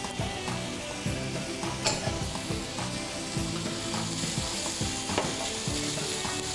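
Green pepper stir-frying with chicken in a hot pan for Chinese spaghetti chow mein, a steady loud sizzle with scraping stirring strokes and occasional utensil clinks against the pan.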